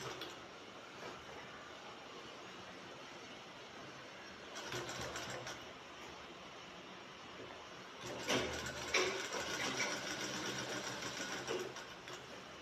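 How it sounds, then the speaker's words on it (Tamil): Sewing machine stitching a shirt collar, a steady fast mechanical whir running throughout and surging louder in two longer bursts, close up with no talk. "ஆல்ரெடி நம்ம தையலுக்காக விட்டுருந்த துணியில் தைக்கிறோம் 1/4 இன்ச் அளவுக்கு."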